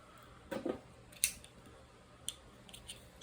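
Scissors snipping the wrapping thread on a fishing rod guide during a repair, a quick cluster of close snips followed by a few sharp, faint clicks, with no voices.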